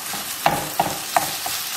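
Ingredients with minced garlic fry in a skillet, a steady sizzle broken by four sharp scrapes of a utensil against the pan at roughly even intervals.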